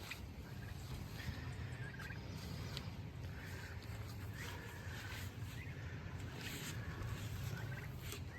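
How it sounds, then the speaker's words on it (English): Two young homestead turkeys, about two or three months old, make soft repeated gobbling and peeping calls over a steady, faint outdoor background noise. "We have two turkeys."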